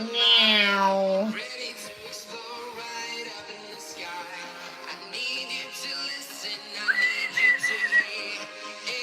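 A person imitates a cat with a drawn-out, falling meow at the start. Softer whiny vocal sounds and a short rising meow-like cry follow later, with no other sounds around them.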